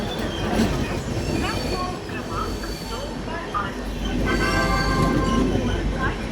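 An Amrit Bharat Express train (Malda Town to SMVT Bengaluru) running, with a steady rumble of wheels on track, rhythmic clatter and occasional metallic squeals, heard from on board as the sound swells toward the end.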